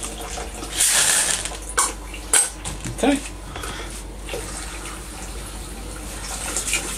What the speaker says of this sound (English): Just get some hot water running.